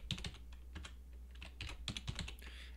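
Quiet computer keyboard typing, a first name keyed in for a new Shopify store staff account: short bursts of light clicky keystrokes in irregular clusters, close and alone.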